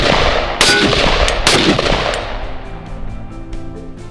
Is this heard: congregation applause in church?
no